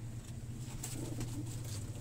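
An older breeder pigeon coos softly and continuously, a low rolling murmur heard faintly up close against a quiet background with no talking.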